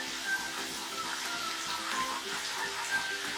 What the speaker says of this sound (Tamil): அதுக்கப்புறம் பொடியா நறுக்கி வச்சிருக்க பூண்டு போட்டுக்கிறேன்.